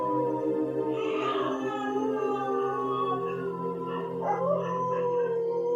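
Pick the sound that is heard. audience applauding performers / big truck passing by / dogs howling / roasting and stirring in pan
dogs howling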